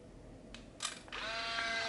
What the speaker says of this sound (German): Da muss ich jetzt hier auf den Auslöser drücken.